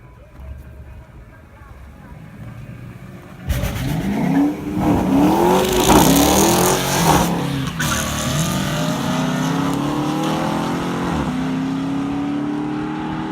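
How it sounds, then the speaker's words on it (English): A car accelerates hard during a run, its engine revving up in rising sweeps after a sudden loud start, then settling into a sustained roar with gear-change dips; brief talk is heard over it. "So we've been taking a couple runs in the car."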